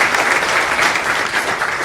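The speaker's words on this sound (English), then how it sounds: "If we could give our corporate partners a round of applause" Hall of Fame induction ceremony audience gives a brief, even round of applause, a dense steady patter of many hands clapping with no voices over it.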